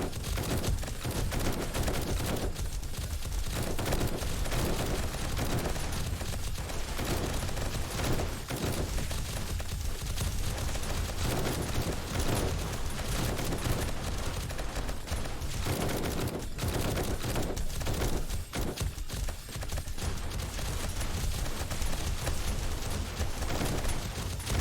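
Gunfire in the zombie survival game 7 Days to Die during a horde-night wave against irradiated enemies: dense, continuous rapid shots and bursts at steady loudness across the whole stretch, with no talk.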